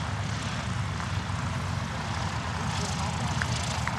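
An Albatros D-Va vintage biplane flies in the rain at Old Rhinebeck Jamboree, its propeller engine giving a steady, loud droning roar throughout with no break.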